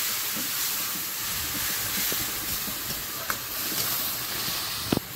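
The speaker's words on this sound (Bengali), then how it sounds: "একটু জল দিয়ে দিলাম।" Water poured onto salt, chilli and turmeric in a hot pan for a Bengali elephant-foot yam and potato curry sets off a steady, loud hissing sizzle that runs throughout, with a few small pops and crackles.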